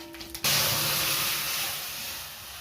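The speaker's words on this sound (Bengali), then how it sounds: "আচ্ছা এবারে ডালটা ঢেলে দেবো" Mung dal poured into hot oil with green chilli and bay leaf, giving a sudden loud, steady sizzling hiss that starts after a brief quiet moment and holds on, fading slightly, with no talk.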